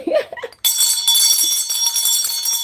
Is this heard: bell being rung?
yes